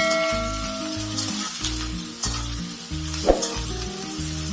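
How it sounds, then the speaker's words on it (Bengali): Chopped potatoes and onions fry in a pan for chirer polao, a steady close sizzle with a brief clatter of stirring partway through, with background music playing. "আলু আর পেঁয়াজটা ভাজতে থাকুন।"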